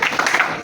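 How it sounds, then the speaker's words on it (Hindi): An audience at a college memorial debate competition applauds in a brief, loud, dense burst of clapping, close and continuous, with no voices over it. "एक बार जोरदार तालियां हो जाए।"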